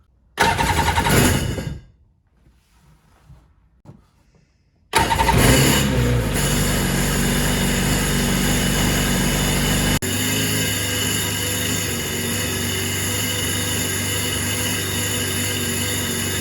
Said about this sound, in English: Now it's time to see if she will fire after the expensive rebuild.